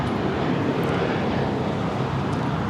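A JetBlue Airbus A321 jet takes off at LAX, bound for Fort Lauderdale: a steady, loud, broad engine roar holds evenly throughout without a voice over it.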